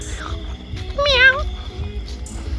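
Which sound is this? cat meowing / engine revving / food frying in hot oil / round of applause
cat meowing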